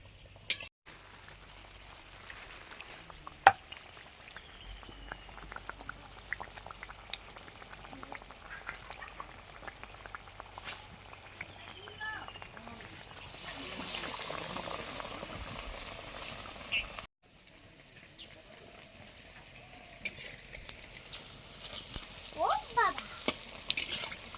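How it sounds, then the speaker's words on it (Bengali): Potato chops (aloo chop) frying in a pan, a soft, steady sizzle and bubbling with occasional clinks and stirring, quiet and close, with a voice now and then. "বন্ধুরা, আমার মোটামুটি চপ ভাজা শেষ।"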